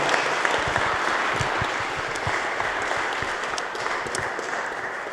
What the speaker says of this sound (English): can we have another round of applause for Dr. Virginia Eubanks?